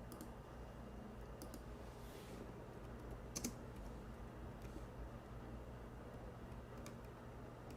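Typing on a computer keyboard, quiet scattered key clicks with a few sharper taps, close by in a calm room with no talking.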